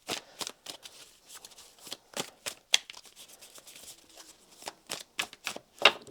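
Tarot cards are shuffled by hand in a quiet room, producing a series of quick, crisp riffling bursts separated by short pauses, close and fairly soft.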